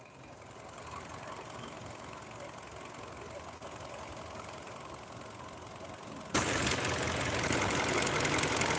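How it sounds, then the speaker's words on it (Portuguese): An electric motor runs steadily under test on an oscilloscope bench, a constant mid-range hum that turns abruptly louder and brighter near the end, as if the microphone were moved closer. "Agora acredito que vocês estão ouvindo o motor também."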